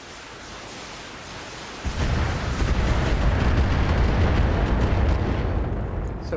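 Turret fire support pounding targets in the BattleTech video game: a quieter rumble gives way to a heavy, sustained roll of explosive booms that keeps going to the end.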